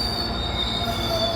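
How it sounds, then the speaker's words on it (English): A GO train pulling into St. Catharines station gives off a steady, piercing wheel squeal that holds loud and unbroken throughout. "As the train approaches"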